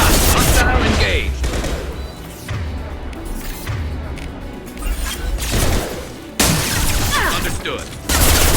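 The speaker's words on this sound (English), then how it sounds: "Firing a high impact shot." High-impact-shot gunfire in Mass Effect Legendary Edition, heavy bursts of weapon fire and crashing combat noise that come in loud waves with short gaps, with voices speaking under the action.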